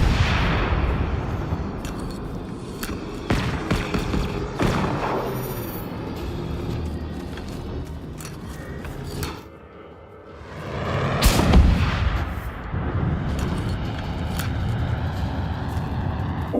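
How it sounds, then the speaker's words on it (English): Gunfire and explosive bursts ring out in the video game Generation Zero as a robot is shot down, loud repeated sharp cracks over a rumbling, cinematic background with a brief lull midway. "Yeah, we definitely need to shoot her down."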